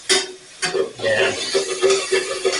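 Spatula scraping a pan to deglaze a brandy pepper steak sauce, a series of short rough scrapes repeating in an uneven rhythm close by, with a low steady hum from the stove beneath.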